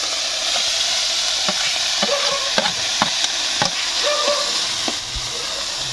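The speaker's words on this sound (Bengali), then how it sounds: "আর এদিকে এখন আমি পুঁটি মাছ ভাজছি" Small puti fish fry in a little oil over a wood fire, a steady close sizzle broken by several sharp pops and spatters through the middle.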